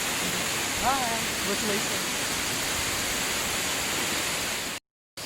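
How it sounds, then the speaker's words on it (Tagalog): Nakita Falls pours in a steady broadband rush of falling water, loud and continuous throughout, with a faint bird chirp near the start and a brief dropout near the end. "Guys, at this moment you can see Nakita Falls at its finest."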